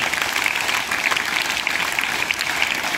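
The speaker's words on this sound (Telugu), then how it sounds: "ఒకసారి వాళ్ళకు మనస్ఫూర్తిగా చప్పట్లు కొట్టండి." A crowd of students at a girls' high school Teachers' Day celebration claps for their teachers in a dense, steady burst of applause that is close and evenly loud throughout.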